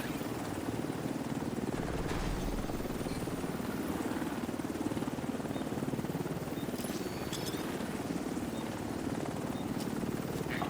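Helicopter arriving for extraction in the video game The Division's Dark Zone, a steady, loud rotor and engine drone held throughout with little change.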